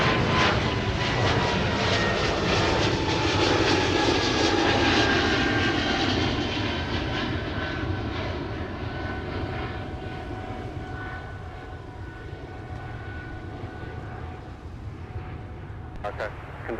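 A fixed-wing airliner takes off from a runway at Minneapolis–St. Paul airport, a loud, steady engine roar that swells and then gradually recedes over the clip, with background speech faintly present.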